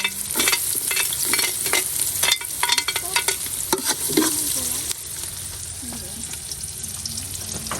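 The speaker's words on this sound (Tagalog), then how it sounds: "magigisa na tayo ng ating ginataan" Ingredients for ginataan sautéing in a pan, a loud steady sizzle with frequent scraping stirs and clatter from the utensil, no talking.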